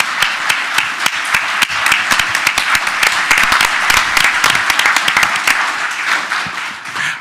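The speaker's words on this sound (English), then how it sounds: "Parents, at this time, I'm going to ask you if you can just clap for yourself" Parents at a school board meeting break into applause, a dense, fairly loud burst of many hands clapping at once that holds steady throughout without fading.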